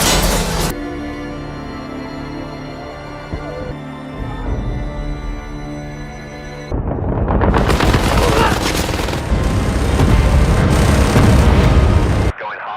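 Loud, dense gunfire from a film battle scene, rapid bursts of automatic fire with booming blasts that grow heavier in the second half, mixed with music and a voice.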